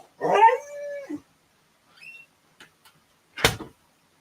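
A dog howls once, long and close, outside by a neighbor's house. A few faint yips follow, and then a sharp bark or knock comes after a short pause.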